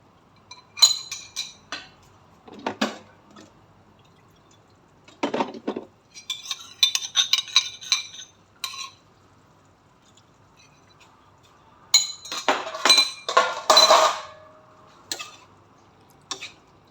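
A metal utensil stirs a slurry into beef and broccoli sauce in a pan, making intermittent scraping and clinking in short bursts with quiet gaps between them.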